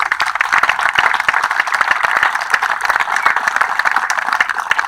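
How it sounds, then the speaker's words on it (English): Close, loud applause at a ceremony for a restored W&W 8408 locomotive, with sharp individual hand claps cutting through a steady crowd clapping throughout. "Let's have a big round of applause."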